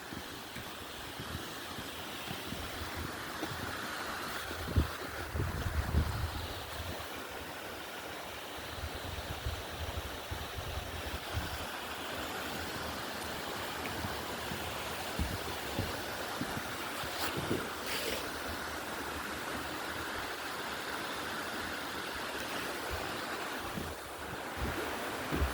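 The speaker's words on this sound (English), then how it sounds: "I guess we'll count the man-made waterfall." A man-made waterfall pours in a steady, broad rushing wash of water with a gusty, windy edge, continuous and fairly close with no voices.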